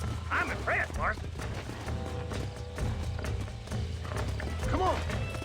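Horse hooves clip-clopping at a steady trot or gallop in the Western video game Red Dead Redemption, with a whinny, mixed in under game music and talk.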